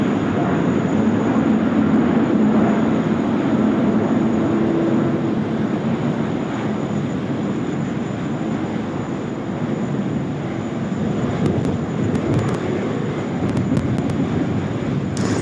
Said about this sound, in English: Likely a nice long takeoff roll there from United.